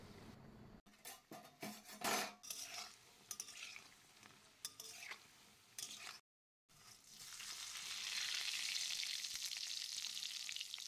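Small spiced balls fry in hot oil, a soft crackle under sharp clatters of a utensil against the pan early on, then a steadier, louder sizzle after a short silent gap.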